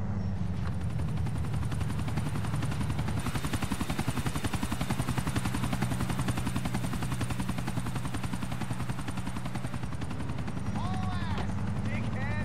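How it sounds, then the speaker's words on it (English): A helicopter takes off in GTA IV, its rotor thumping in a fast, steady rhythm under a loud continuous engine whine that builds and holds for most of the stretch, with a voice speaking over it. "You're about to see a chopper taking off from Civilization Plus."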